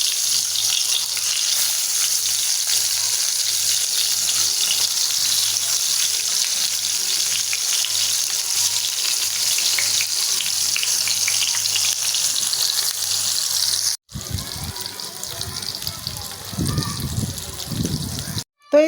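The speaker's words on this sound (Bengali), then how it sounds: "আর গরুর মাংসটা রান্না করছি আমরা 4 জনের জন্যই।" Beef with cabbage fries loudly in a pan, a strong continuous sizzle for most of the clip, followed by a few seconds of running tap water and clattering near the end.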